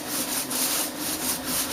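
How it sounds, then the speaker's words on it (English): A hone brush scrubs the cylinder bore of an LQ4 6.0 engine block, wet with water and soap, making a steady close rubbing and swishing texture with no pauses. "just going like this and scrubbing it"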